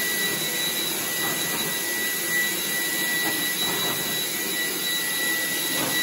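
A vacuum cleaner runs steadily close by, with a loud, constant roaring whine and a sharp high tone, and no break in the noise for the whole stretch.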